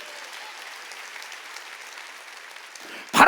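A church congregation at a Wednesday worship service claps in a steady, even patter that swells into a sudden loud burst at the very end.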